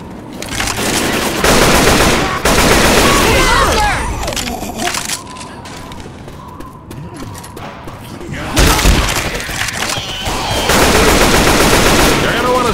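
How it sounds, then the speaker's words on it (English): Rapid assault rifle fire from a video game campaign, loud bursts of automatic shots in several volleys with brief pauses, mixed with game effects and someone talking over the action. "Assault rifle."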